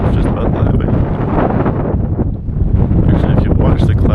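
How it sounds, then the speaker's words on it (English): Strong wind gusts buffet the microphone on Borah Peak, a loud continuous roar with brief dips as a storm approaches the mountain. "Well, it's getting windy again."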